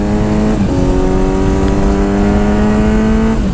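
A Kawasaki Z900 motorcycle accelerates hard, its engine a loud, close, steady whine that climbs in pitch and drops briefly at each gear change.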